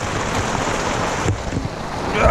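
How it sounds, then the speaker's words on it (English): Heavy rain pours down on a roof top tent, making a loud, continuous hiss and drumming heard from inside, steady throughout with no talking. "there's nothing like being inside a tent when it's pouring down"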